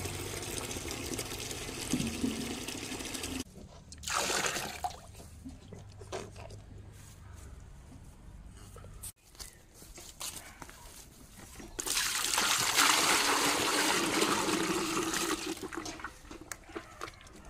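Water is poured out for a thirsty cow after it has eaten oilcake, a splashing, gushing pour in two bursts with a quieter stretch between, some handling noise, and no voice over it.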